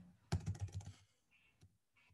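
Quiet burst of keystrokes on a computer keyboard while entering a database query, a quick run of clicks followed by a couple of faint isolated taps.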